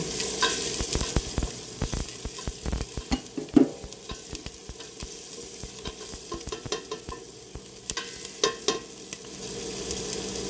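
Pork liempo frying in a wok with a little oil and garlic, crackling and spitting steadily throughout with sharp pops and scraping stirs, close and fairly loud, no talking.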